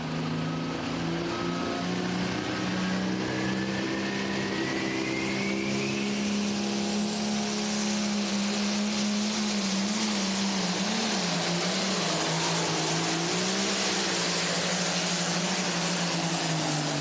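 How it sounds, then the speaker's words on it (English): Diesel pulling truck or tractor at the NTPA Super Nationals in Tomah, Wisconsin, its turbocharger spooling up into a rising whistle over a loud, sustained engine roar that climbs and wavers in pitch throughout. "you can hear that charger spool up"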